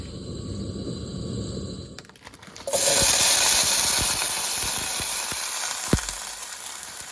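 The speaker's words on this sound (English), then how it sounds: "first saute some onions and peppers. Oil." Onions and peppers hit hot oil in a pan and break into a loud, steady sizzle that holds for several seconds, with faint clinks of stirring over the frying hiss.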